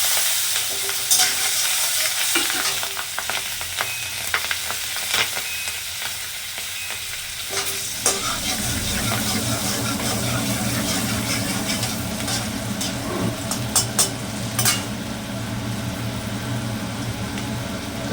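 Nigella seeds and torn green chillies are stirred into hot oil in a pan, giving a steady sizzle and frying crackle with scraping stirs. A low rumble runs underneath throughout.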